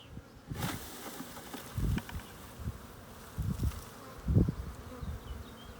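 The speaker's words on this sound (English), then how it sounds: "give them a couple brisk shakes, and hopefully the queen will fall off right into that box" A honeybee swarm shaken into a swarm trap box: dense, steady buzzing of many bees, punctuated by a few dull thumps and rustles as the cluster is jolted loose.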